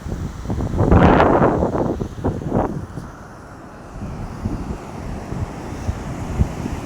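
Strong wind buffets the microphone in rough gusts at Pathupuram Pedavanka village beach during Cyclone Montha, loudest early on. A lower, steadier rumble of surf continues underneath as the gusts ease, with no talk.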